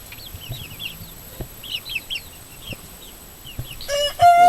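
Chickens in an outdoor run cluck and chirp in scattered bursts, close by, with some soft knocks and louder, drawn-out calls building near the end.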